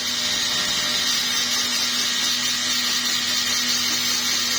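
A grinder runs steadily while porting and smoothing the bore of a two-stroke Suzuki Satria motorcycle cylinder block, giving a continuous high whine with a constant hum and no talk over it.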